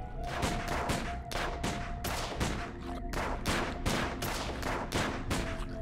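Rapid volleys of gunfire aimed at subdimensional tentacles in Sam & Max: The Devil's Playhouse, a steady string of sharp loud shots in quick rhythm for several seconds with no talking.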